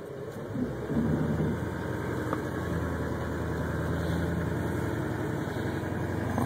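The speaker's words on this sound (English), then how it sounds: "Watch our wheels as we pull out of here." A repossession tow truck's engine idles and runs steadily as the truck pulls out, a continuous low mechanical rumble with vibration, close and moderately loud, with no talk.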